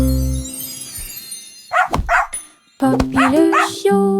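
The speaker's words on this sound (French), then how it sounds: "Elle a couru après sa queue et a finalement aboyé." A playful puppy gives a few short, bright barks and yips in two brief bursts, with soft music and sung notes around them.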